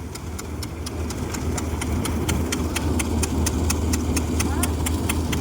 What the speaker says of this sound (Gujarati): ટ્રેક્ટર ચીપિયો લઈને આવી ગયું છે.